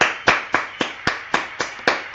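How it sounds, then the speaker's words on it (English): Sound-effect hand claps, eight or nine crisp sharp claps in a quick even rhythm, loud and close with nothing else under them. "Let me put some claps on that."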